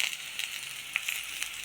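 Okra frying in coconut oil in a pan, a steady soft sizzle with scattered small pops and crackles, close and continuous.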